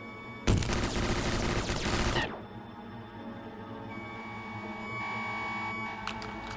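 A loud, dense volley of gunfire crackles for nearly two seconds and cuts off abruptly, leaving a low hum and faint background noise.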